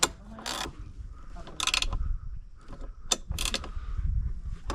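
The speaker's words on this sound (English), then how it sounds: "So 10 mil wrench, can't quite get a socket in there very easily" A 10 mm wrench turns a bolt while a sun visor is fitted to a Polaris Ranger 1500 XD: several short bursts of close metallic ratcheting clicks, separated by quiet pauses.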